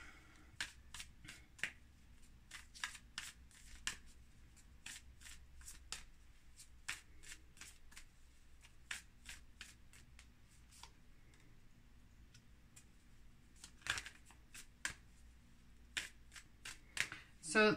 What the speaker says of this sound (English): Let's pull some more cards before I speak about that